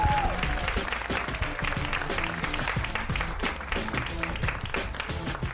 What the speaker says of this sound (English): One more big round of applause for Sam Norton.